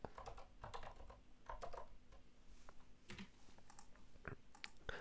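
Fingers type a number by hand on a computer keyboard during a live coding session, giving a run of quick, close key clicks at an uneven rhythm.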